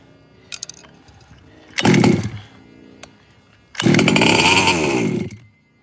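Nitro engine of a Team Losi RC truck, buzzing in short bursts, with a brief high-pitched rev and then a longer loud screaming run close by, separated by quiet gaps.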